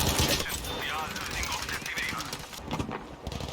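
Distant enemy gunfire crackles in Battlefield V during jungle fighting on Solomon Islands, a steady mix of scattered shots and bursts running under a continuous battle din.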